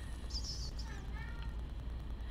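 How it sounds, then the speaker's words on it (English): A pet cat meows once or twice faintly in the room, brief and soft beneath steady background noise. "If you guys hear that, that's my cat."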